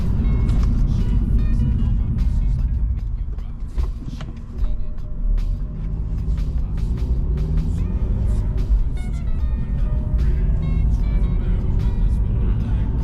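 BMW 320i E90 with N46 engine driving during a brake test. A loud, steady engine and road rumble fills the cabin and dips briefly partway through before building again.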